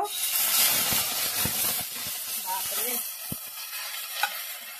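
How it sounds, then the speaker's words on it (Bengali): Ghetkol leaves frying in hot white oil for a bharta, a dense hissing sizzle with soft irregular stirring taps, close and fairly quiet, no speech. "তেলটা গরম হয়ে গেছে, এখন এইগুলো দিয়ে দেবো"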